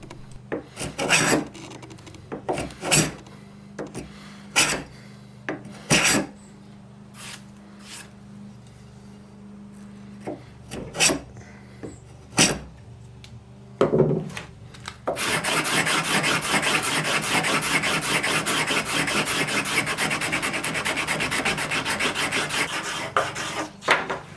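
A hand tool rasps across timber to clean up saw cuts, first in a series of short separate scraping strokes, then in a fast continuous run of rapid back-and-forth filing, close and alone with no talk.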